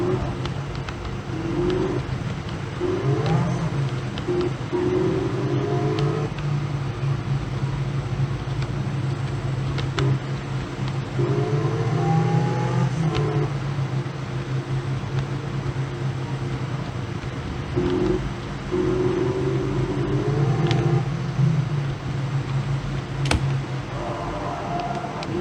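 Car engine in a car sales simulator game, pulling away and running steadily with repeated rising revs as it shifts through gears, moderately loud and continuous throughout.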